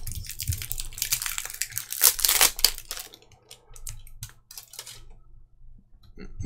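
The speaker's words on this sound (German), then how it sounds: "Machen wir da auch mal die Folie weg." Thin plastic protective film peeled off a small Joyetech eVic Primo Mini vape battery mod, a close run of crinkling and crackling that is busiest and loudest in the middle, then trails off into a few scattered rustles.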